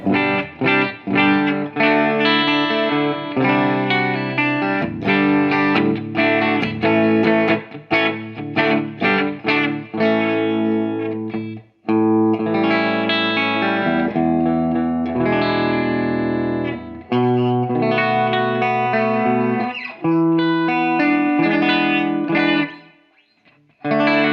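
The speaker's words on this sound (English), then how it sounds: "Here's the Fender sound in the bridge pickup." Fender semi-hollow ES-335-style electric guitar on its bridge pickup, played through effects with distortion and chorus, strummed chords and picked lines ringing continuously at steady volume, one brief gap midway and a fade near the end.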